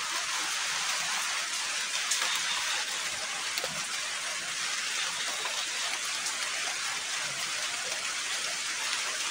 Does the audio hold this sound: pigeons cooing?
no